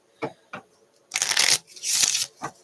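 Tarot cards shuffled by hand at close range, a few soft riffles followed by two longer bursts of rapid flicking and a final short riffle, with no talking.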